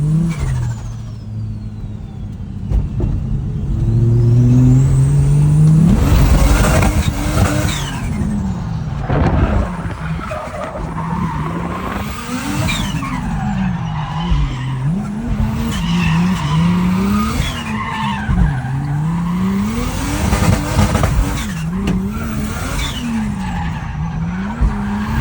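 A Ford XR6 Turbo drifting, loud tire squeal and skidding over a revving, boosted engine that rises and falls in repeated sweeps, continuous and close, with no talk.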